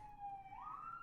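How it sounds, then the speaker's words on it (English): Emergency vehicle sirens wail faintly in the distance, a single sustained tone that sweeps upward partway through, heard alone with no talk. "Sirens are here."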